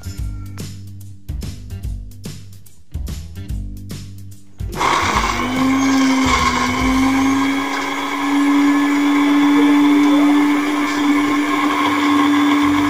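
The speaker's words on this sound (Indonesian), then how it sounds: "Masukkan seluruh udang ke dalam blender." Short bursts of a kitchen blender pulsing on shrimp shells and heads with salt, then the motor runs continuously with a loud, steady high whine that rises slightly as it grinds.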